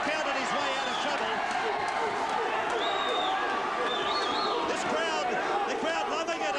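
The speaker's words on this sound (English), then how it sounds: "The crowd loving it at the Seagulls." Steady crowd noise roars throughout a boxing fight at the Stardust Room, Tweed Heads, a dense continuous cheer with some whistles and shouts rising above the hubbub.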